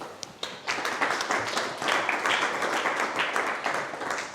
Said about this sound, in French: Un sincère merci, on peut l'applaudir.